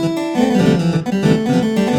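An intentionally bad-sounding melody from a music production example: a short, loud synthetic line with wobbling pitched notes over a sustained bed, about two seconds long with no voice.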